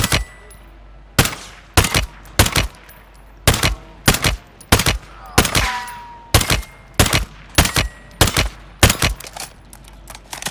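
Rapid bursts of gunfire in the video game DMZ, a series of sharp, loud broadband cracks repeating in quick succession over a low background rumble, with no talking.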